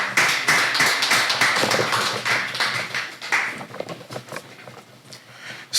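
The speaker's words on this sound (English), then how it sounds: "A round of applause for them." Audience at a Nigerian youth debate competition clapping for the debaters, a dense burst of hand claps that starts loud and thins out toward the end.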